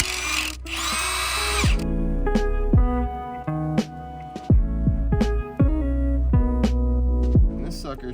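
A power tool spins out engine head bolts in repeated short bursts, each a loud whirring rattle that spins up and winds down, with a few brief knocks between them.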